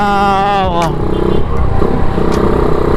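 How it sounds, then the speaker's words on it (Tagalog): Someone talks briefly while a manual transmission motorcycle engine idles nearby, then it revs and keeps running with a steady, rough rumble. "ito ang aking gamit ngayon na motor, manual transmission"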